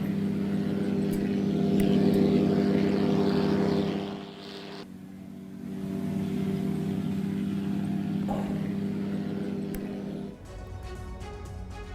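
A grenade-launcher drone in test flight: a steady engine drone with a strong low hum and harmonic whine, continuous throughout, dipping briefly midway and shifting tone near the end.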